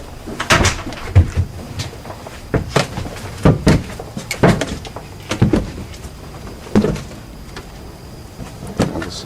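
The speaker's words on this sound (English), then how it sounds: "Let me close the door." A door being shut in an old New England house, heard as a run of sharp knocks, clunks and rattles at close range over about nine seconds, with no talk.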